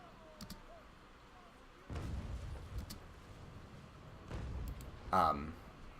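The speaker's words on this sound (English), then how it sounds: "the sound of the cannonballs is vastly improved in this update" Naval Action cannon broadsides from sixth-rate sailing warships: two heavy booming volleys, each with a low rumbling tail, over a faint background.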